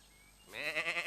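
A cartoon sheep gives one short, wavering bleat, near and clear, after a quiet moment.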